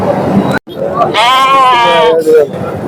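Sheep bleat loudly and close at a busy Saturday livestock market in Baireddipalli, one drawn-out wavering call standing out over a constant babble of crowd voices and other animal noise.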